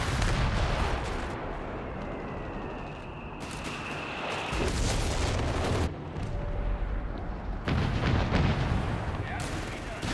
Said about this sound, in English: Suppress now should allow the Overwatch artillery to get some okay hits.